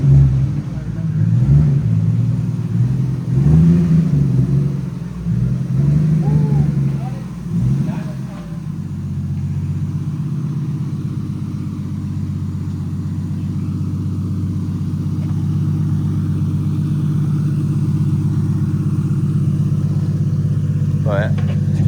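A Lexus IS300 fitted with a 1.5JZ engine idles steadily just after its first start-up, a low continuous rumble that follows people talking over the opening seconds and then runs on alone.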